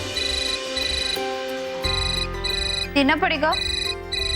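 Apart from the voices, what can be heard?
phone ringtone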